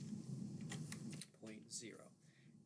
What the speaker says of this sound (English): so I can just start typing